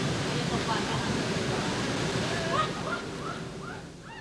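Steady broad roar of a waterfall in Thailand during the rainy season, continuous and fairly loud, with faint higher calls or chirps rising over the rush near the end.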